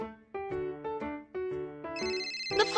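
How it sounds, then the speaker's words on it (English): A cartoon telephone rings with a bright electronic ringtone, repeating short melodic bursts that build to a higher, busier trill at the end, loud and close with no talking. "The phone's ringing."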